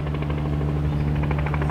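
A helicopter comes in to land, its steady droning hum and pulsing rotor chop sustained and fairly close for under two seconds with no voices.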